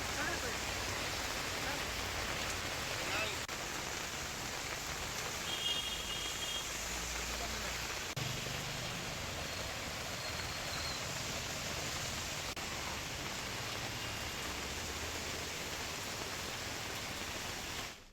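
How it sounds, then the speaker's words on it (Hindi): Steady rain in Bilaspur gives a constant soft hiss that runs evenly throughout, with a few faint thuds and a brief high tone partway through. "इधर बिलासपुर में बारिश का दौर फिर शुरू हो गया।"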